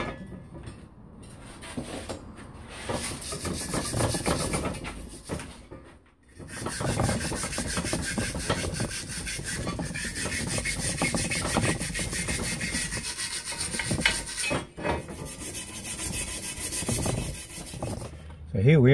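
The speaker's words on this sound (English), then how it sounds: "I'll have to use a hand wire brush for this." A hand wire brush scrubs a rusty metal bracket on an off-road trailer, producing continuous close rasping strokes with brief pauses throughout.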